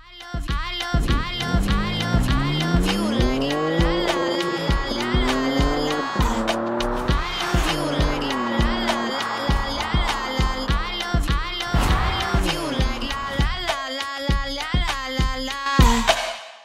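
A BMW M3 Touring on a road test, its engine note loud and close, climbing and falling through repeated revs and gear changes with no talking.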